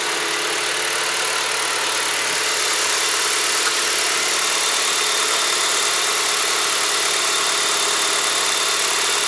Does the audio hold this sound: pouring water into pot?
no